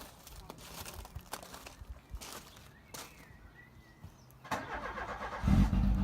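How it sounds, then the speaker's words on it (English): A car starts up and pulls out of a home driveway, making clicks and small knocks before the engine catches and swells into a loud, close rumble as it moves off. "we took her out the driveway and yeah, we moved her, we drove her for the first time"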